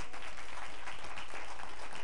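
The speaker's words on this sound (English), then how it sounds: "So now y'all got to clap for me." Steady, dense clapping from a large church congregation, continuous and fairly even throughout.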